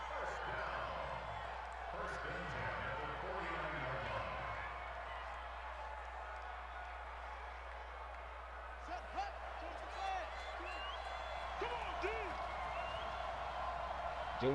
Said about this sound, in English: Jalen Richards trying to silence down this very loud Stanford crowd